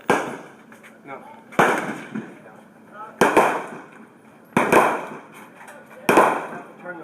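Pistol shots at an outdoor shooting range, five sharp loud reports spaced about 1.5 seconds apart, each followed by a short ringing decay, with faint talk in the background.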